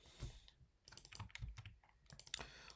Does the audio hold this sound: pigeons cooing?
no